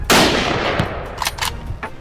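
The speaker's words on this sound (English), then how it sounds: "gunshots echoed through the forest, ringing out from multiple directions" A sharp gunshot cracks and rolls away in a long echo through a hillside forest during a wild boar hunt, followed by a few fainter distant shots ringing out.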